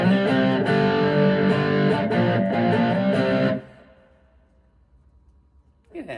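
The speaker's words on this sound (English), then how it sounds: "Let's put on a little bit of grunt, see if it handles the distortion." A Lightning Boy Mk2 cigar box guitar is strummed hard through distortion, several loud, gritty chords ringing for about three seconds, then fading into quiet before another note kicks in at the end.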